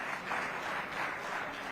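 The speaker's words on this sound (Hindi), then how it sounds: "एक बार फिर जोरदार तालियों के साथ" Studio audience applause welcoming guests on a televised political debate, a soft, steady patter of clapping from a moderate distance with no voices over it.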